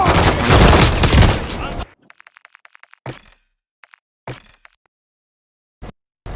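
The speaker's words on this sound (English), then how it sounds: "Have to shoot these guys." Call of Duty campaign gunfire starts as a loud dense burst of shooting that cuts off abruptly, followed by a rapid string of faint ticks and a few isolated sharp cracks spaced across near silence.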